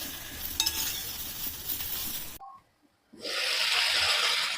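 Okra dry-roasting in a pan without oil, a soft steady hiss that cuts out for a brief moment, then returns louder and brighter when the pan is stirred, close with no voices.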